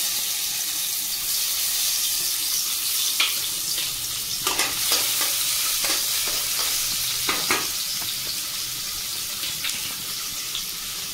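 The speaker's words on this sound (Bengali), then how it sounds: "আমি তেলের মধ্যে দেব বেশ বেশি করে একটু রসুন কুচি নিয়েছি।" Crushed and chopped garlic cloves frying in hot oil give a steady, loud hiss of sizzling, with occasional clinks and scrapes of stirring mixed in.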